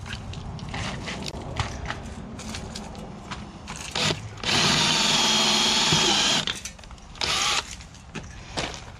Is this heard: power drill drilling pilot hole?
yes